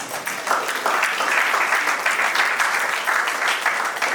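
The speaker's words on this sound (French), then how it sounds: "Est-ce qu'on peut acclamer pour la gloire de Dieu?" Congregation in a church breaking into sustained applause and cheering, steady and loud throughout, with dense clapping filling the space and a few voices mixed in.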